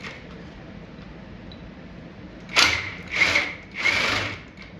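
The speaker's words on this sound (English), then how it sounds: "So we're going to use our cordless impact with a 15 millimeter socket." A cordless impact wrench with a 15 mm socket fires three quick, loud hammering bursts close by on a Chevy dually pickup engine, after a quiet stretch of faint background hum.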